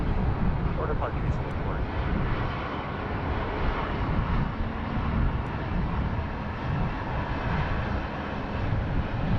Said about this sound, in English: lovely lane departure as always from the 787 Dreamliners